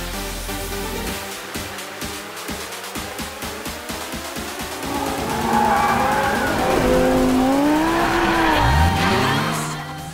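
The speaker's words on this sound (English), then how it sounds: "Forza Motorsport 5 adds one of the world's most famous racetracks, the Nürburgring." A race car laps the Nürburgring in Forza Motorsport 5, its engine rasping loudly through rapid gear changes and rising revs before tires squeal through a corner, with no voices.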